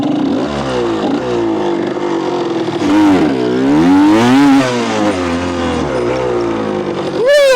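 A motorcycle engine revs hard and close, its pitch sweeping up and down through repeated throttle blips, with a sharp final rev at the end.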